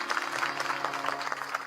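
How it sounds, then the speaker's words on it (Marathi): An audience at a kirtan claps in a dense, steady round of applause, moderately loud and close, lasting the whole short stretch. "या पोरांसाठी एकदा टाळ्या वाजवा नाही"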